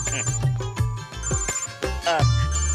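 A telephone rings repeatedly with a thin electronic tone in a Telugu film scene, heard under ongoing speech.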